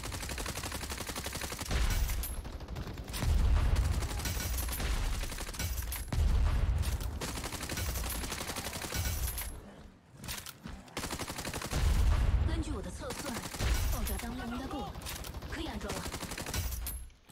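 Rapid bursts of automatic gunfire from the video game Battle Teams 2 in its story-mode PVE gameplay, repeated volleys with short pauses between them, loud and close, mixed with game effects.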